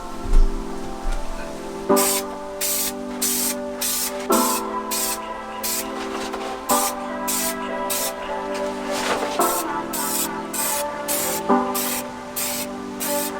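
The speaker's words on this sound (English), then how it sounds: "spray it on the back of your Thinsulate and let it sit for about 5 minutes until it's tacky" Aerosol adhesive sprays onto the back of Thinsulate insulation in a Ram ProMaster van build, a series of short hissing bursts in quick repeated pulses over a steady background tone.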